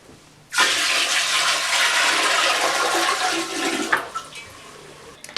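Soapy water draining out of a Costway twin tub washing machine, a loud, sudden rushing gush that pours steadily for several seconds, then tapers into gurgles and trickles.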